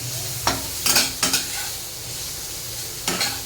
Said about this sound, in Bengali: এই যে রান্না করছি, কপি ভাজছি আগে